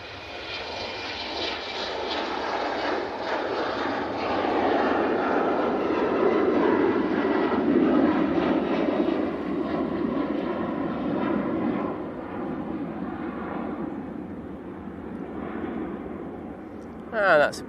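A fixed-wing airliner departs Manchester Airport, its engines a broad, steady roar that swells and then slowly fades over many seconds, with a voice talking over it.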